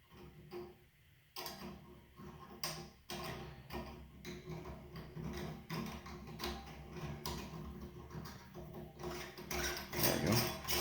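A chrome trim piece being threaded onto a Price Pfister Avante shower valve, giving small irregular clicks and ticks of metal and plastic parts turning, close and fairly quiet.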